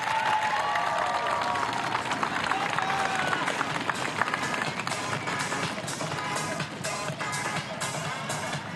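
Large crowd gathered at the start and finish area of an elite men's individual time trial at a road cycling world championship, a steady roar of cheering and clapping with rhythmic banging, under commentary.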